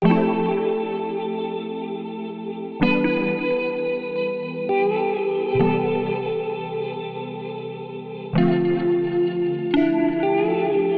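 Sustained, shimmering synthesized guitar chords with heavy echo and reverb, played in a smooth R&B beat made in Ableton, changing every few seconds and ringing on alone without any voices.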